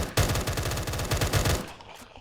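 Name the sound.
gunfire in Minecraft Cursed Walking video game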